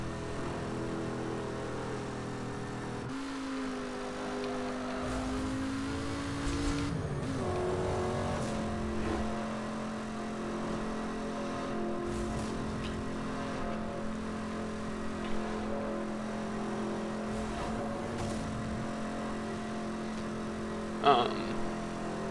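Race cars in Need for Speed Hot Pursuit Remastered drive a long race with a continuous engine drone, shifting pitch as they accelerate and rev, and brief louder bursts near the end.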